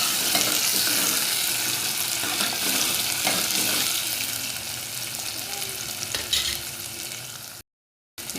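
Tomatoes stir-fry in a pan with a constant loud sizzle and repeated scraping stirs. The sizzle eases slightly toward the end, then cuts out briefly before returning.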